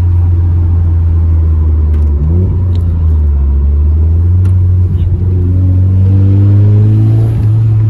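A Nissan S13 engine rumbles loudly from inside the car, steady and deep, then revs and accelerates with the pitch climbing several times through gear changes.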